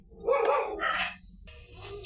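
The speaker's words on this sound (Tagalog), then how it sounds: "tumatahol yung mga aso" Dogs bark in a few sharp, close bursts, two quick barks followed by a pause and another, loud against a quiet room.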